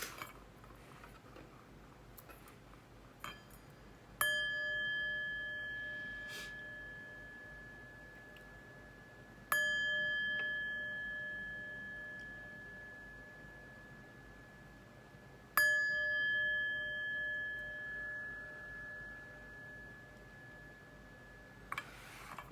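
Three clear, sustained chime strikes ring out several seconds apart, each one decaying slowly over a quiet background, with a few faint ticks in between.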